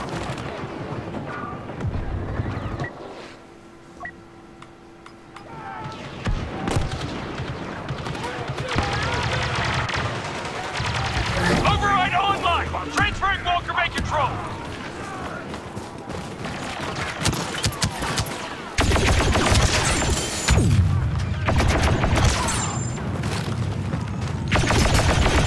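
Gunfire and blasts from a Star Wars Battlefront 2 battle with turrets and a shotgun, dense bursts and booms running throughout under steady talk.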